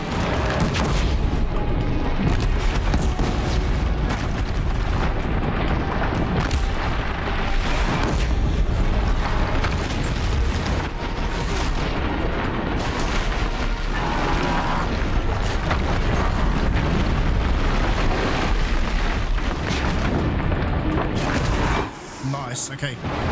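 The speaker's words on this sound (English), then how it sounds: "Let's use some bombs." Bombs explode in the action video game Horizon Zero Dawn, a dense run of loud booms and blasts over steady game audio, with a player talking quietly at times.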